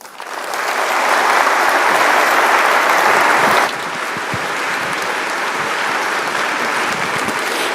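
An audience applauds after a speech at a Freedom & Virtue Institute event. The thick, steady clapping swells loud at first, then eases to a slightly softer but sustained ovation.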